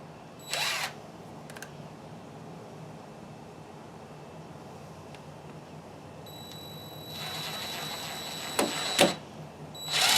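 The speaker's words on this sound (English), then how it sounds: "I'm just going to use a drywall screw and go in there." A power drill drives a drywall screw into a wooden broom handle, with a short whir near the start and a longer, louder burst of drilling toward the end, plus a brief jolt as it seats.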